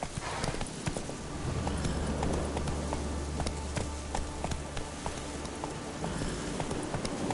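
Hooves of a horse clip-clop at a quick trot on a path in The Witcher 3 video game. The beats are steady and fairly close over soft ambient game sound, with no voices.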